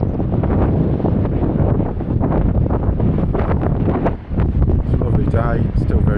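Strong wind buffeting the microphone at Hartland Point on the coast, loud continuous roaring gusts close in, with a voice faintly audible beneath.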